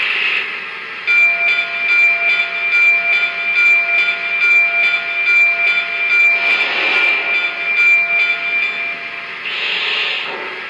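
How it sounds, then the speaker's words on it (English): Bell on a Lionel 115th Anniversary Berkshire 2-8-4 model steam locomotive rings in a steady, evenly spaced series of clangs, close and clear, over a constant background hum. "And here's the bell."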